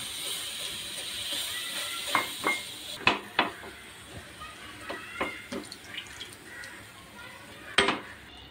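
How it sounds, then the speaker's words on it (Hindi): Milk poured a little at a time into a chicken cheesy malai sauce cooking in a pan over a low flame, a soft liquid wash broken by scattered metallic clinks and taps of utensils against the pan. "अब हम इसमें थोड़ा थोड़ा करके दूध ऐड करेंगे।"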